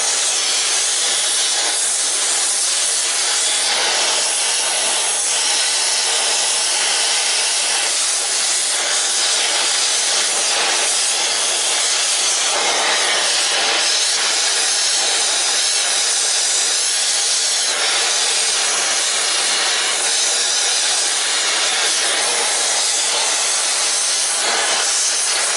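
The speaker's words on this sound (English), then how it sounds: "Don't really want the flame being on the paint and burn the paint off the frame." A torch flame heating a nut on the frame of a 1997 Freightliner FLD truck, a loud, steady roaring hiss held close and unbroken for the whole stretch with no talking.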